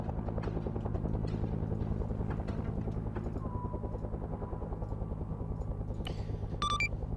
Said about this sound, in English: So they hear the choppers.